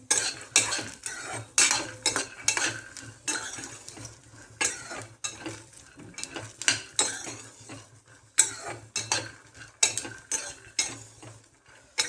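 A mix of vegetables and chickpeas is stirred and roasted in a pan, with repeated loud scrapes and clinks of a metal spoon over a soft, steady sizzle and no talking.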